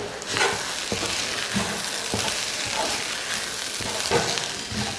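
Cooked rice with soya chunks, egg and coriander leaves is stirred in a pan over low heat, giving a continuous soft sizzle with regular scraping and light knocks of the spoon, close up and without speech.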